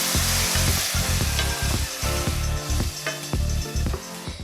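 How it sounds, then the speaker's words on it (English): White wine hitting a hot pan of toasted rice for a Southern Italian shrimp risotto, giving a loud continuous sizzle with rhythmic stirring scrapes throughout, close and alone. "Now we're gonna use some of this white wine to deglaze"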